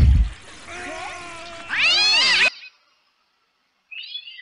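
A cat in the video game Postal 2 meows with rising, wavering cries, followed by silence and then a shorter, higher mew.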